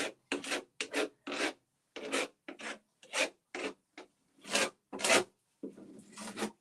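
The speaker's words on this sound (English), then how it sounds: "This is the mud spatula I'm using." A mud spatula spreads texture paste during a decoupage craft session, giving a series of short, close scraping and rasping strokes separated by brief pauses.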